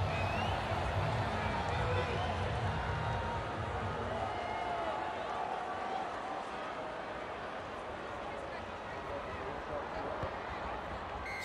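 Noisy crowd at an NRL rugby league match between the Bulldogs and Sydney Roosters, a dense steady roar of spectators with a commentator talking over it.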